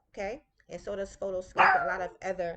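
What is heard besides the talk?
dog barking in the background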